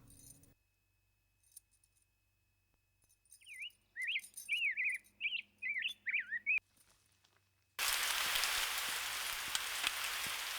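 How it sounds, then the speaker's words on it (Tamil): Heavy rain bursts in suddenly as a loud, dense hiss after a quiet stretch of chirping birdsong. The downpour stays steady to the end. "மழை கொட்டிட்டு இருக்கு"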